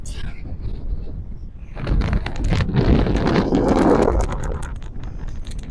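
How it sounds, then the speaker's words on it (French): Steady blustery wind buffets the microphone outdoors on the coast at Pointe des Châteaux, growing louder and rougher midway, with a constant rushing roar and no voices. "Mais il y a beaucoup de vent."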